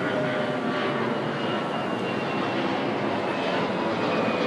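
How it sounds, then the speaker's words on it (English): A jet airliner roaring overhead near coastal tide pools makes a steady, broad rushing drone that holds for several seconds without fading, with no talk. "Big old jet airliner."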